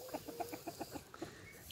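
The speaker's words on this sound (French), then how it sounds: "Et lui, c'est un coq, il est tout simplement adorable." Chickens, a young rooster and a hen, give a quick run of soft, regularly spaced clucks, about ten short notes close by and faint, then trail off into quiet.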